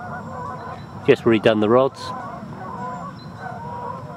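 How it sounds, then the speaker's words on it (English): A short burst of several loud honks from geese coming in to roost on a lake, quick and clustered, with someone speaking briefly nearby and a quiet outdoor background. "The geese have come in to roost on the lake behind me"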